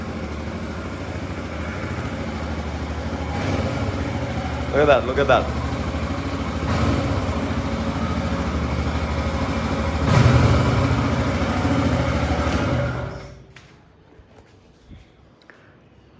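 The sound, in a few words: Royal Enfield Himalayan 450 engine idling with valve tick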